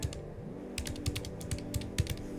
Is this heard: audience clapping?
no